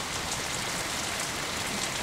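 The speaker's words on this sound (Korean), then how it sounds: "봄비가 내리면 습지는 되살아난다." Spring rain falls steadily over a volcanic-crater wetland on Jeju, a dense, even hiss of drops on water and vegetation filling the whole clip without a break.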